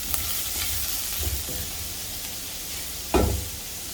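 Finely chopped medium-size onion frying and being stirred in a pan, with a steady sizzle throughout, a few soft stirring scrapes and a louder clatter near the end.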